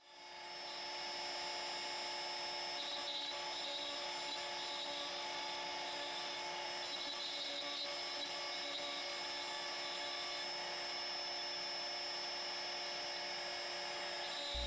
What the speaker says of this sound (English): Then we'll run our quarter inch bit for the V-carve clearing, the acrylic insert pocket,